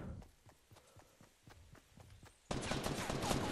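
Fortnite gunfire rings out in a run of sharp, evenly spaced shots at moderate distance, then a sudden dense burst of loud, rapid firing and noise takes over near the end.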